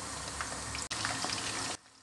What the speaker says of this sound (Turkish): Çıtır tavuklarım kızarıyor.